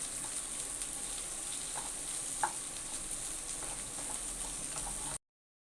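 Okra and egg stir-fry sizzling steadily in a pan, with faint scattered clicks of a utensil stirring, quiet and even throughout, with no voices.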